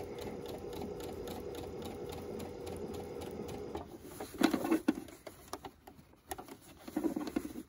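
Sewing machine stitching both sides of a fabric face mask tube, a steady fast whirring run of stitches for about four seconds, then stopping and starting in shorter uneven bursts with handling noises between.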